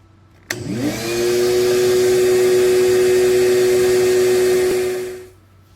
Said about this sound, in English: No trouble at all for a 15 amp shop vac.